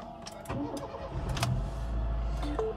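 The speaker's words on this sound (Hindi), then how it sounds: "अब हम इस गाड़ी को स्टार्ट करते हैं" A Honda City petrol car's engine cranks and catches, a short starter whir followed by a low steady idle that settles and continues close by, with no talk.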